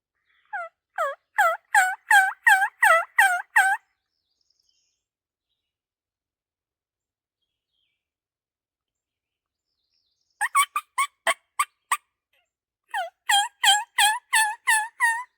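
Wild turkeys in the Kentucky woods gobble loudly in three bursts of rapid rattling calls, the first and last longer, separated by stretches of silence and heard alone without talk.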